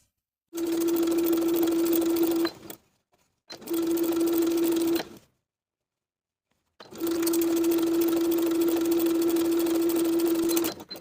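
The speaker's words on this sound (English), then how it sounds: "As I sew, I'm going to tuck under 1/4 of an inch of that raw fabric and edge stitch in place all the way around" A sewing machine edge stitching a folded quarter-inch hem on jeans runs in three bursts of steady, even whirring, each stopping abruptly into silence, close and alone.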